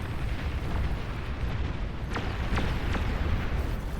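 Bombing-run explosions in a real-time strategy game, a dense rumbling barrage with several sharp bursts near the middle and end, loud and continuous with no talk.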